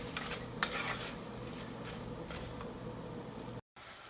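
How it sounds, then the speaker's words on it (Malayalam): Sliced onions sautéing in oil with a pinch of salt, the base for a coconut-milk egg curry, give a soft, steady sizzle with faint stirring scrapes, quiet and close, with no voices. "കുറച്ച് ഉപ്പൂടെ ചേർത്തിട്ട് നമുക്ക് സവോള വഴറ്റാം."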